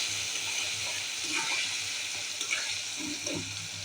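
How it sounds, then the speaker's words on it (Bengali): Potato pieces frying in refined oil seasoned with salt and turmeric, a steady moderate sizzle with a few soft stirring scrapes and no one speaking. "দিয়ে এটা ভালো করে ভাজা করে নেব।"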